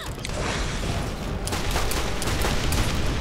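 Borderlands gameplay gunfire from a sniper rifle and a launcher: a dense, continuous clatter of shots and mechanical noise throughout, with a few sharper cracks standing out near the end.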